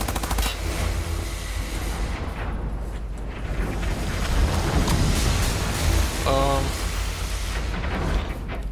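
Assault rifle fire in the video game Wolfenstein: The New Order, a loud dense clatter of shots mixed with rumbling game ambience and crackling noise, continuous throughout with a short sharp rapid burst near the end.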